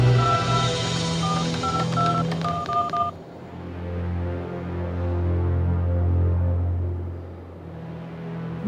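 A phone number is punched into a keypad, a quick run of separate beeping tones over low engine rumble, then the tones stop and only a steady vehicle drone remains.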